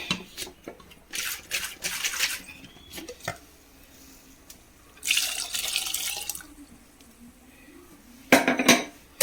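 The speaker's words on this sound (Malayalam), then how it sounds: "മിക്സിയുടെ ജാറിൽ കുറച്ചും കൂടി വെള്ളം ഒഴിച്ചിട്ടൊന്ന് ഒഴിക്കട്ടെ" Water runs and splashes in bursts into a kitchen mixer jar, with clinks of the jar and utensils between the pours, close and fairly loud.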